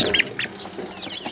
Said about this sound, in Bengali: তো এই আর একটা মুরগি আছে